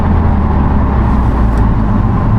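A 2022 Ford Puma ST fitted with a cheap cat-back exhaust revs loudly and close by, a dense, deep, throaty engine roar that holds steady for a couple of seconds with no talking.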